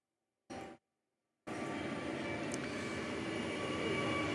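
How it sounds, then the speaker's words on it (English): A big train rumbling past near a lawn bowls green, a brief burst of sound and then a steady, broad roar that holds and slowly grows louder. "Another big train going through."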